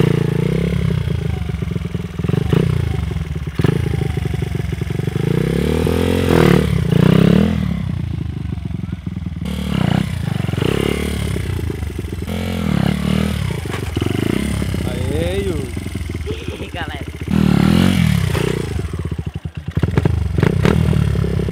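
A mini motorcycle engine revs and sputters up close during wheelie practice, rising and falling in bursts, with clattering thumps and scraping mixed in.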